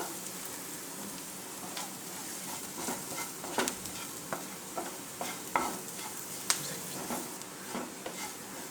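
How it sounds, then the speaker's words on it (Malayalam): A spoon scrapes and stirs masala powder in a hot pan during noodle cooking, giving irregular close clicks and scrapes over a steady low sizzle, with no talk. "എന്നിട്ട് നന്നായിട്ട് ഇളക്കി കൊടുക്കുക"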